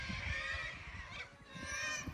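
A flock of corellas calls from a distance near a creek by a bridge in outback Australia, their screeching cries blending into a continuous wash over low rumbling background noise.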